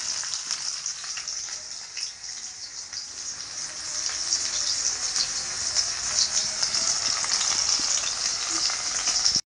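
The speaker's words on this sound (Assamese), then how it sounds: "এইফালে তেল গৰম হৈ গ'ল আৰু প্ৰথমতে ইয়াত দি দিলে পিঁয়াজ" Onions drop into hot oil for a Bengali dum aloo, giving a bright, crackling hiss. The sizzle builds louder partway through and holds steady until it cuts off abruptly.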